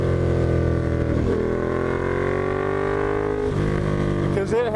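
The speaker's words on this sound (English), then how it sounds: "Because it has a crazy good sound. It does have the aftermarket exhaust" A carbon 2015 Ducati Diavel fitted with an aftermarket exhaust rumbles loudly and deeply as it accelerates, rising in pitch with a few gear changes, its throaty note dominating throughout with a voice faintly beneath.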